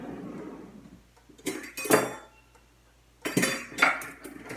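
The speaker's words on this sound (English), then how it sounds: "So I just poured the cream in on top of the bone broth mixture. Now I'm gonna stir it." A spoon clinks and scrapes against a pot as cream is stirred into hot bone broth, in two separate bursts of close clattering with quiet gaps between.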